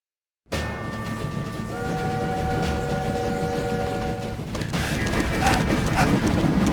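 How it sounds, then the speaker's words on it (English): Train running in the video game My Time at Sandrock, a continuous loud rumble and clatter of rolling wheels with a sustained horn-like tone held in the middle, steady throughout with no speech. "Stop the train!"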